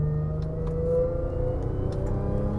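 A 400 AWHP Audi S4 B8.5 with all-wheel drive and a sport differential accelerating through a corner, its engine holding a steady, rising drone heard from inside the cabin with no talk.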